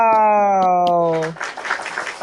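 Clapping for a guest on an Indonesian talk show starts after a sustained harmonic tone and continues as a short, moderately loud burst of applause.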